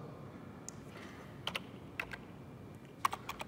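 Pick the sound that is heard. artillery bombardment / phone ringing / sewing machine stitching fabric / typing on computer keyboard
typing on computer keyboard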